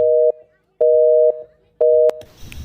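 A phone's hang-up tone after a call ends: three loud, steady electronic beeps, each about half a second long, separated by short gaps, followed by faint background noise.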